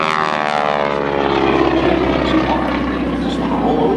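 A T-6 trainer airplane at a military airshow drones with a loud, steady propeller-engine roar that holds throughout, close and continuous with no pause.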